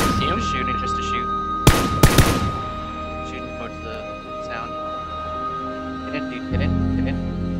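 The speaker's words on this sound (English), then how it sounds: "Now I'm getting shot." Gunfire in PUBG, heard as a couple of sharp, loud shots in quick succession near the middle, over steady game ambience, with someone talking throughout.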